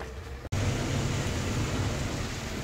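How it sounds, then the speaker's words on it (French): Steady broadband hiss of rain near Lake Piediluco, Italy, loud and continuous, with a brief dropout near the start before the downpour resumes evenly. "Ah non, voilà la pluie."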